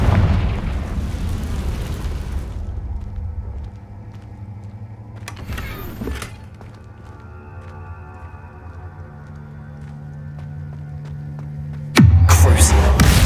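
A Confringo fire-blast spell in Hogwarts Legacy, a loud rushing burst at the start fading into low rumble, with a brief flare midway and another sharp blast near the end.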